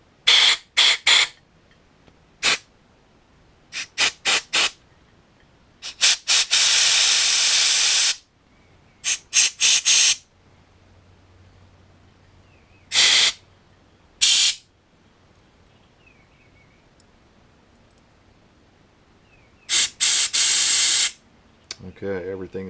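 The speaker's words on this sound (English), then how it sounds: "you're going to want to blow through all of these with your air compressor" An air compressor nozzle blows sharp bursts of air through the ports of a 1979 Honda ATC three-wheeler carburetor, loud hissing blasts of varying length separated by quiet gaps.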